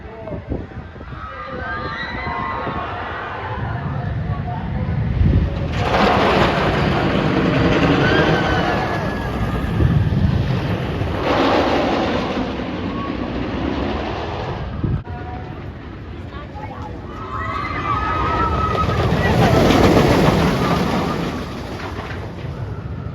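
The El Toro roller coaster runs at Six Flags Great Adventure, ridden from row 17. A loud, continuous rushing roar swells and fades in big surges, with riders' screams rising over the rumble.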